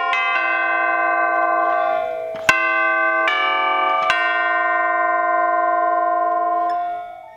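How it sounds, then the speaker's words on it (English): Orchestral chimes with the damper pedal held down, tubes struck a few times and left to ring in long, bright, overlapping metallic tones that sustain and slowly decay, close and loud with no talking. "when the pedal is down, the tubes are free to ring."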